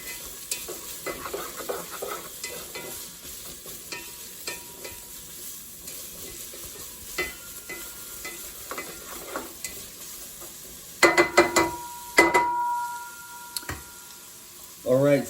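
Garlic sizzling in a pan for a vegetable gumbo, a soft steady frying hiss with scattered clicks and taps of stirring, then a few sharper utensil clinks and scrapes near the end.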